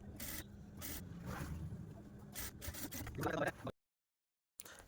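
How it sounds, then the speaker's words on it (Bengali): Sewing machine stitching folded petticoat fabric: a busy rasping, rubbing mechanical chatter in short bursts, running steadily for several seconds, then cut off by a sudden silence before briefly resuming. "এখন মুড়ি দিয়ে মুড়ি দিয়ে আমি সেলাইটি মেরে নিয়ে নিচ্ছি"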